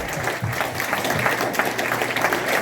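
Applause from a crowd at a farewell event with an auction, a fairly soft, continuous patter of clapping across the whole stretch.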